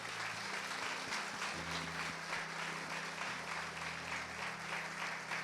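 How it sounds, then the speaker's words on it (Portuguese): Soft, steady clapping from a church congregation during a morning worship service, fairly distant, over sustained low keyboard or organ tones, with no speech. "Vamos aplaudi-lo nessa manhã."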